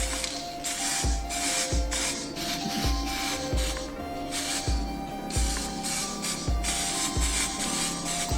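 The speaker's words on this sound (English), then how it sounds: "Now I'm just spraying it now with some red craft spray" Short hissing bursts of red craft spray paint from a can repeat in a steady rhythm, about one per second, each with a faint click at the start, close up.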